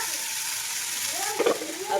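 Masala fries in hot oil in a kadai for an Odia fish curry, giving a close, steady sizzle with a brief louder spatter midway.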